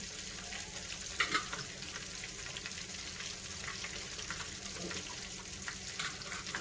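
Chicken pieces deep frying in hot oil for homemade KFC-style chicken, with a soft, steady sizzle at low level and a few faint clinks, and no talk.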